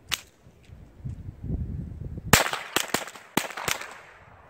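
A Calico M100 .22LR rifle fires outdoors: after some low background noise, a handful of sharp, snappy shots crack out, spaced irregularly and ringing briefly.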